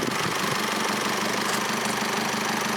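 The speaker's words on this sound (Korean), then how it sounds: "디젤 엔진이니까 한번 소리도 들어볼까요?" The diesel engine of a new Mercedes-Benz GLC idles with the bonnet open, a steady, fairly loud mid-pitched rumble with a faint knocking pulse, close up and without talking.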